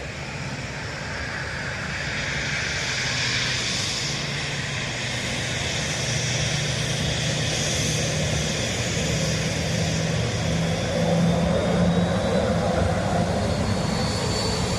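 Ryanair airliner landing on runway 28 left at Dublin Airport, arriving from Trieste: a steady, loud broadband jet roar that swells gradually and holds throughout, with no voices.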